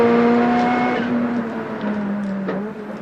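Touring race cars at the 1991 Bathurst 1000 on Mount Panorama scream past with loud, high-revving engines whose pitch falls away as they pass, one car following another.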